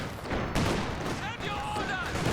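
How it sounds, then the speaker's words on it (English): An anti-tank gun fires in Company of Heroes 2 battle gameplay, one heavy boom with a ringing tail rising over dense battlefield noise and a commentator's voice. "Anti-tank gun firing off a second shot that also misses."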